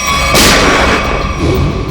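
A single loud gunshot from a gun rigged with a camera bursts out sharply, then rings and fades into a dull rumble, in a TV crime drama.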